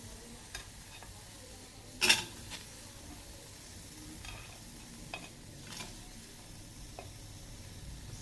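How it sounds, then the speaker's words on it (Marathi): Whole spices for a soybean masala dry-roasting in a pan, heard as faint, sparse scraping and ticking as they are stirred, with one sharper scrape partway through over a quiet background. "पूर्ण मसाला गरम करून घ्यायचं"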